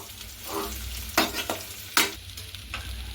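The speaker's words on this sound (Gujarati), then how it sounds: "તો આ રીતે આપણે તેનો વઘાર કરવાનો છે" Steamed dudhi methi muthiya dhokla being tempered in a pan crackles and sizzles close up, with a few loud scraping stirs of a spoon against the pan over a steady frying hiss.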